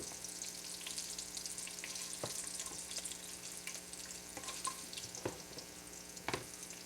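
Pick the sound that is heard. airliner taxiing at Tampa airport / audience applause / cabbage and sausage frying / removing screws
cabbage and sausage frying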